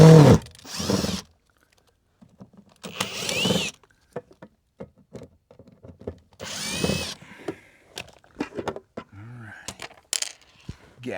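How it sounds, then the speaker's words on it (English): Power drill boring holes for solar PV conduit on an off-grid build, in several loud bursts of a few seconds each with tool clatter and knocks between them. "got to drill some holes, baby. Drill some holes."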